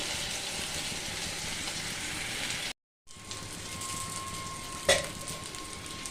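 Fish fry sizzles in a pan in a steady, dense hiss with faint crackles, broken by a brief silent gap before the frying resumes and a single sharp clink sounds near the end.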